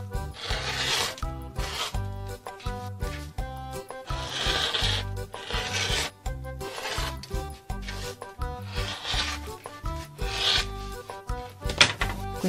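Cardboard box edges are trimmed for cartonnage, giving a steady run of close, dry rasping and scraping strokes in an even rhythm with no talking.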